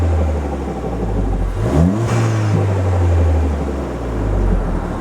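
A Ford Fiesta ST running a Peron Stage 1+ ECU tune idles with a low drone, then blips its engine once in a short rising-and-falling rev before settling back to a steady rumble, heard close without talk.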